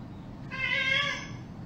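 A domestic cat lets out a single drawn-out meow, close and fairly loud, rising and fading over about a second against a quiet room background.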